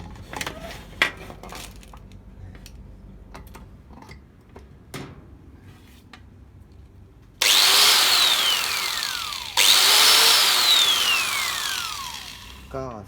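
After a few clicks and handling taps, a budget angle grinder whines loudly to speed twice, each burst spinning up with a rising pitch and then winding down.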